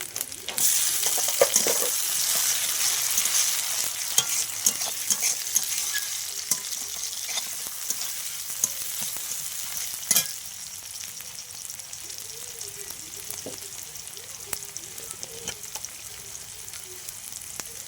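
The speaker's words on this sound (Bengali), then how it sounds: "পেঁয়াজটা ভাজা হয়ে গেছে এখন আমি টমেটো কোচানো দিয়ে দিচ্ছি" Tomato dropped onto fried onions sizzles steadily in a hot pan, a dense continuous hiss with light stirring scrapes and one sharper clatter partway through, close and fairly loud with no talk.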